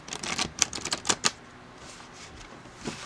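A deck of Thoth tarot cards is corner shuffled, giving a rapid, crisp clicking flutter of cards close by for about a second, then a quieter rustle as the deck settles.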